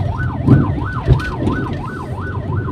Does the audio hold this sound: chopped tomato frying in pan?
no